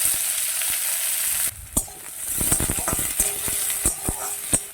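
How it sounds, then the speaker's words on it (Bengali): Chopped onions fry in a pan with cumin and nigella seeds for a spiny gourd curry, a loud steady sizzle that drops partway through to quieter frying broken by sharp spatula scrapes and taps. "পেঁয়াজটাও আমি একটু ঢাকা দিয়ে ভালো করে ভেজে নেব"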